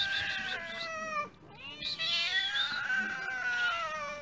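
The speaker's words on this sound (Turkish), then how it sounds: "Miyavlayışa bak." A cat meows loudly and close up in two long, drawn-out wailing yowls, the second rising and stretching on, with no talking.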